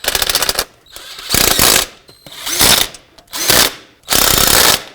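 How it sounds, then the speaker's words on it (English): Ratchet wrench tightening the intake manifold bolts on a 2003-2007 Nissan Murano during an intake gasket replacement, heard as four or five loud, close bursts of rapid clicking separated by short pauses. "Okay, just gonna put this on my ratchet. Make sure these are nice and tight"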